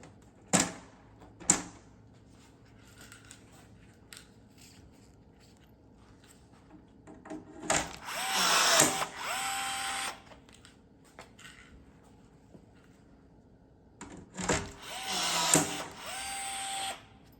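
A power tool gun tightening fasteners on a RZR Pro R trunk, a couple of sharp clicks followed by two loud whirring bursts of a few seconds each, separated by near silence.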